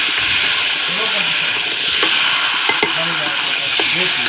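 Two kilos of mutton hitting a hot pan, a loud continuous close sizzle with occasional clinks and scrapes of stirring, no voices.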